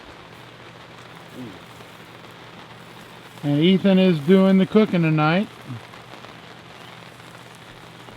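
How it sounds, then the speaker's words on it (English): Steady rain pattering on surfaces on a rainy July day at a state park campsite, a constant soft hiss throughout, with a person speaking over it midway. "Rainy day, July 4th."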